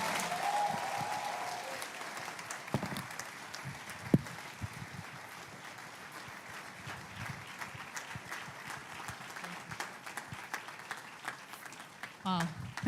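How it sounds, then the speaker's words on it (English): An audience at a Nigerian conference applauds after a speech, a steady, moderate wash of clapping that continues for many seconds and then thins out, with a few sharper claps standing out. "Another round of applause, please."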